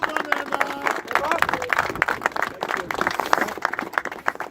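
A crowd at a street protest claps for police liaison officers, scattered sharp hand claps layered over loud crowd chatter and voices talking nearby.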